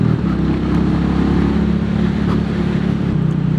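Royal Enfield Goan Classic 350 single-cylinder motorcycle engine pulling steadily at around 60 while riding, a continuous low throbbing drone with wind rush, loud and close, no talking.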